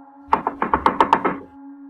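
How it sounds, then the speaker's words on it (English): Frantic rapid knocking on a cabin door at night, about seven sharp hurried raps in a quick uneven burst, close and clear with a low steady hum underneath. "there was a frantic knock at the door"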